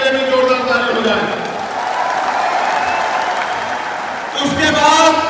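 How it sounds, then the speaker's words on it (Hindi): Rally crowd at a stadium applauding, with dense sustained clapping and cheering that rises again toward the end, loud and enveloping, with crowd voices mixed in and a voice through the loudspeakers over it. "एक बार इनके लिए भी जोरदार ताली हो जाए।"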